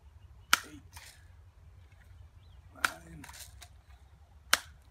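A Crosman Remington Air Master 77 air rifle is pumped, giving three sharp clicking strokes spaced a couple of seconds apart, close and fairly quiet with faint rustling between.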